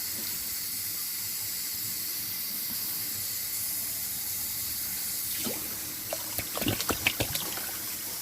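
Water is poured into a pot of thick buckwheat porridge kept warm on the stove, giving a steady close hiss and trickle that ends in a few brief splashes and clinks.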